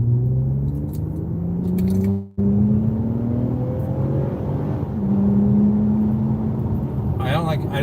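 A vehicle pulls away from a rocky stop at roughly half throttle, its engine tone rising in steady strained harmonics and rumbling loudly and close for several seconds.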